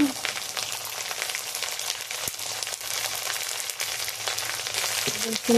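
Onions sizzle and fry steadily in a pan, browning before spices go in; a continuous, close, fairly loud crackling hiss with a few brief clinks near the end and no talking.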